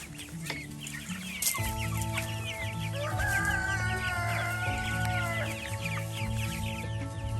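Young chickens in a chicken tractor on pasture cluck and chirp in a busy, overlapping chorus, close by and continuous over steady outdoor background noise.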